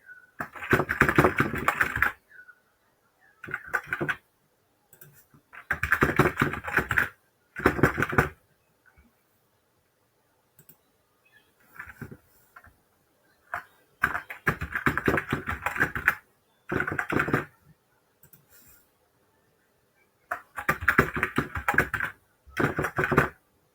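Fingers tapping out an email and password on a computer keyboard in several bursts of quick, close clicking keystrokes, separated by quiet pauses of a second or more.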